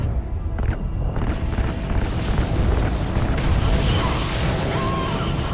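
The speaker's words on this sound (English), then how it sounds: "Ignite those RCS fuel lines! You heard him, Baker! Fire" Explosions as RCS fuel lines are ignited in Call of Duty: Ghosts, a sustained loud rumbling blast with crashing debris and booming impacts throughout, mixed with game sound effects.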